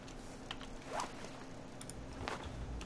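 A bag's zipper is opened in The Forest survival game, two quick quiet rasping pulls about a second apart amid faint clicks and low background noise, with no voices.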